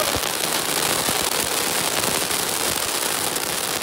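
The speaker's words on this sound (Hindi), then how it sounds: "तो चलिए इसे जलाकर भी देखते हैं।" A bus-shaped firecracker, a flower-pot style firework, sprays and crackles continuously at close range, a loud dense hiss with rapid popping that holds steady throughout.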